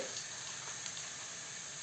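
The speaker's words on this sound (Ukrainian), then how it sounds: "І на маслі ми підсмажуємо на легенькому вогні, ми підсмажуємо цибулю." Steady, gentle sizzling of onion frying in butter over low heat in a pan, a soft continuous crackle with no talking.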